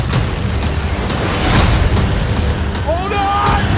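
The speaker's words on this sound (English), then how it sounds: "So let's show them some fireworks." Fourth of July fireworks boom and crackle in a dense, continuous barrage, loud and close, with a few whistling streaks near the end and voices mixed in.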